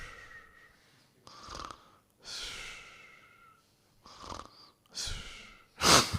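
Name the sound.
voice imitating the snoring breathing of meditating yogis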